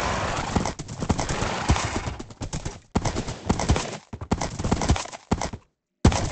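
Rapid hoofbeats clatter in a video game horse race minigame on a modded server, the galloping rhythm loud and close with short breaks and a brief whinny, and no one talking.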